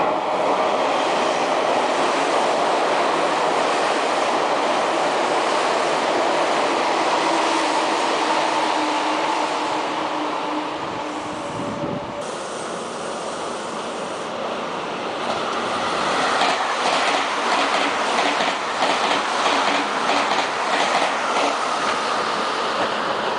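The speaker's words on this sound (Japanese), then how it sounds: "4番線の電車は通過電車です。" A Meitetsu train passes through a station platform at Nagoya Railroad, a loud sustained rumble and rail roar that dips briefly midway, then returns with rhythmic clickety-clack of wheels over joints, with no voices over it.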